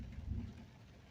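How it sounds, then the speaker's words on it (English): Rain falling on a car's roof and windshield, heard from inside the car as a faint, soft, steady patter with low rumble. "The rain falling on my windshield."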